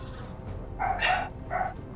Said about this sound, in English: Trying to keep the dog barks out.